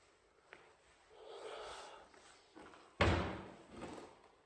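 A door held open swings shut with a single sharp slam near the middle. Quiet shuffling and rustling come before it, and the whole scene stays fairly faint.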